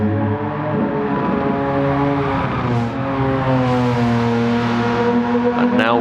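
A RUF CTR Yellowbird sports car engine pulls hard on a race track, a loud sustained roar with rising harmonic tones as it accelerates through the gears, close and continuous.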